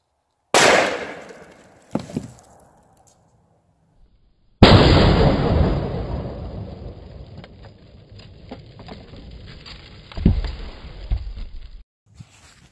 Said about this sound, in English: It totally exploded just like I thought it would.